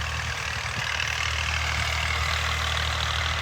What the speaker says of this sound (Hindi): आखिरी चक्कर हैं इस पोर्शन में ट्रैक्टर के